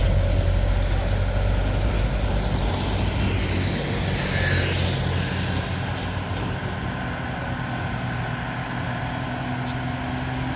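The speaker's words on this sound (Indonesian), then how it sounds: "dari bawah sana ada truk tangki ya bosku" A tanker truck climbs a steep hill road with a sustained loud, low engine roar and broadband traffic rumble, holding steady throughout with no speech.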